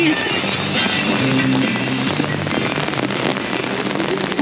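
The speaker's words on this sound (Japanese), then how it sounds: "びしょびしょあ ーすごい一番今日ひどい降り" Heavy rain pours steadily onto a city street in the Susukino area of Sapporo, Hokkaido, a dense, close hiss that covers the whole moment, with people talking faintly under it.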